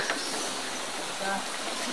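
Constant broadband rushing of a flowing river, steady and fairly close, with faint voices underneath.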